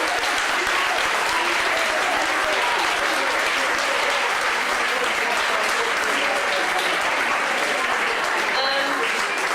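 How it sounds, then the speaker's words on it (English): A crowd at a 2013 UOC presentation evening on the Warrington campus claps for Dom in a steady, loud round of applause that fills the room throughout, with faint voices mixed in. "So massive round of applause for Dom."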